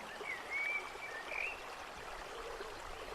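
A waterfall pours as a soft, steady rush of water, faint and continuous, with a thin bird-like chirp briefly above it.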